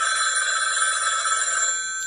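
A telephone bell rings continuously in a steady, bright trill lasting nearly two seconds before cutting off, loud and close with no voices.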